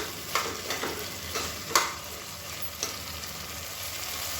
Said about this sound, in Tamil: இப்போ இதை கொஞ்சம் நேரம் இந்த எண்ணெயிலே வதக்கிக்கலாம்.